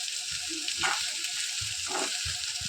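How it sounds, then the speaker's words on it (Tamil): Ginger and garlic sauté in a pan for a chutney, giving a steady, close hiss of frying with a couple of brief, faint sounds in the background. "இஞ்சி பூண்டு நல்லா வதக்கணும்"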